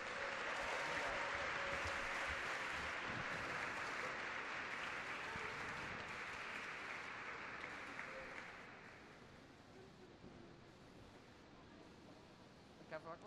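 Sustained applause from an audience at a solemn ceremony session, a dense wash of clapping that is loud at first and thins and fades after about nine seconds, leaving scattered claps and light room noise.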